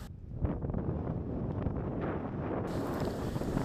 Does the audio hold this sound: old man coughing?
no